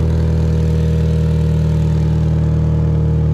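A Fox-body Ford Mustang's exhaust, with Cadillac catalytic converters fitted, idles steadily close by: a loud, low, even rumble with a constant drone and no revving.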